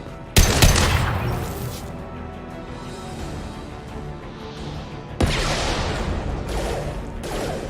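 Sniper gunfire in the Mass Effect Legendary video game: a sharp loud shot near the start, a long ringing rumble, then a second heavy blast later on.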